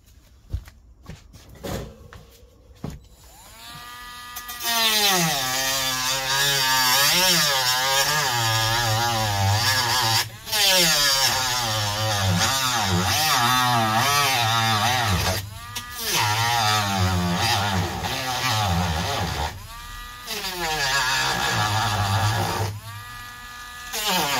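Saw or Dremel cutting off excess plastic from a Cupra front lip blade on a VW Golf 4 or Bora, with brief starts, then long whirring, pitch-wavering cuts broken by short pauses.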